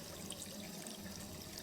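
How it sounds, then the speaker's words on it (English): Water streams steadily from a tap in the video game Rue Valley, a faint, continuous hiss and splash with no voices. "Then you see the water streaming out of the tap."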